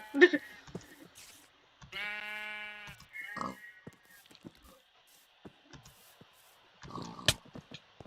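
Sheep bleat in a video game. One clear, wavering bleat sounds near the middle, surrounded by scattered clicks and short bursts of other game noise.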